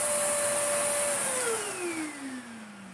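A Sebo Felix Premium upright vacuum cleaner, just refurbished, runs with its head removed for a suction test, giving a steady whooshing roar with a high whine whose pitch slides downward as the motor load changes.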